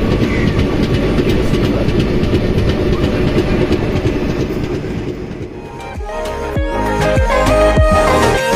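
Doon Express (13009) running on the rails between Howrah and the north, a loud steady rumble of wheels on track that opens into rhythmic clickety-clack over the last few seconds.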